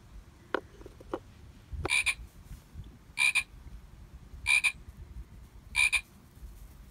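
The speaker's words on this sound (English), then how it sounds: "Did you hear the frog?" Four short, evenly spaced frog croaks from an animal puzzle toy, each a bright electronic burst, preceded by a few soft clicks from handling the pieces; no voices.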